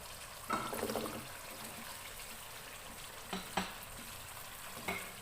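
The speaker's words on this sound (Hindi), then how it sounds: "अब हम इसके अंदर आलू शामिल करेंगे।" Potatoes tipped into a pan of frying masala for egg potato curry, giving a few bursts of sizzle and stirring scrapes over a steady background frying hiss; no talking.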